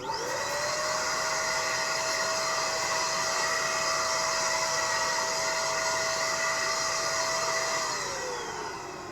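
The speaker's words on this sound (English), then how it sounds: "I will go ahead and blow this off real quick with my handy dandy blower" A handheld air blower roars steadily and loudly while clearing dust out of an overheating PS5 console, holding one constant whine for about eight seconds before its pitch winds down near the end.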